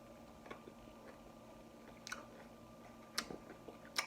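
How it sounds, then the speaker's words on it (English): Crunchy raw vegetables being chewed close up in a quiet room, with a few sharp crisp bites standing out against a low background hum and no talking. "when you're gonna have a thing of crunchy veggies, like you gotta be crunchy"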